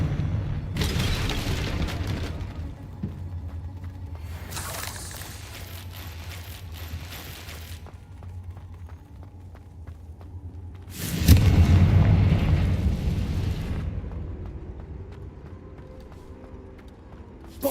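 Spell explosions from Bombarda and Confringo in Hogwarts Legacy, three heavy booming blasts spaced several seconds apart, each with a long rumbling decay; the last is the loudest and deepest.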